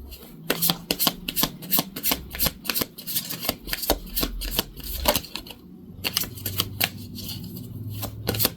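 Stiff tarot cards are shuffled by hand in quick bursts of crisp, snapping riffles, with brief pauses between rounds, close and clear, with no voices.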